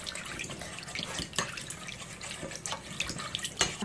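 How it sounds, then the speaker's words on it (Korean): Anchovy broth, about a cupful, is poured into pancake batter for steamed gochujang pancakes, a close, continuous splashing trickle with small irregular splatters. "멸치 육수를 조금 넣고. 자, 한컵 정도 넣었습니다."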